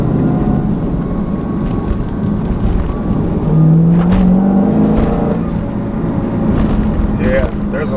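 A 2016 Dodge Challenger Hellcat with a six-speed manual pulls hard in second gear, its engine drone rising in pitch under heavy wind noise as speed builds.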